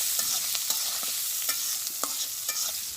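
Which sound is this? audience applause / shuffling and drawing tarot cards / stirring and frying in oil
stirring and frying in oil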